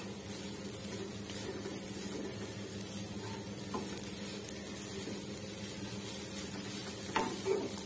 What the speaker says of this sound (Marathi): मिडियम गॅसवरती छान मी परतून घेते थोडंसं एखादा मिनिटभर